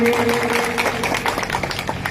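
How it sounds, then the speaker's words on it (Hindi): A crowd claps loudly to welcome the MLA, Rajendra Singh, at a 50-bed hospital event in Gudha, a brief burst of close, dense applause lasting about two seconds. "आप लोग जोरदार तालियों से स्वागत करें"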